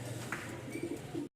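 A pigeon coos in soft, low repeated notes at a Mirpur-1 pigeon market in Dhaka, close and moderately quiet against a faint background murmur.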